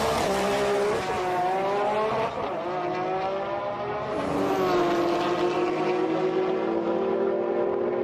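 Nissan Skyline GT-R drag racing, an R33 with HKS 3037S turbos: a loud, sustained engine howl rising in pitch through gear changes, with a tire squeal mixed in, heard from trackside.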